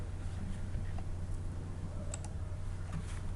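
A computer keyboard is used for typing in Microsoft Word, including presses of the Enter key: a few faint, sparse clicks over a low steady hum.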